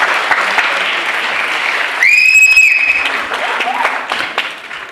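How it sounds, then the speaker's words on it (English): An audience applauds Shri Murali Balachandran at a Bharatanatyam arangetram, a steady wash of clapping running throughout, briefly interrupted by a high whistle-like tone in the middle. "let's give a big round of applause to Shri Murali Balachandran"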